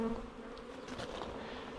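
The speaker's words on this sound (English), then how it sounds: "I'm going to get the bees in there" Honey bees buzz steadily around a backyard hive during package installation, a dense continuous drone with a few louder passes close by, no voices.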